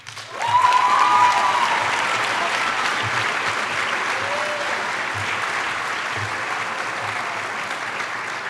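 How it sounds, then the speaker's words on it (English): Audience applause at a high school senior recognition ceremony: an indoor crowd claps steadily and fairly loudly from start to finish, with a faint whistle early on and no talking. "Please give a round of applause for Laurel Masters."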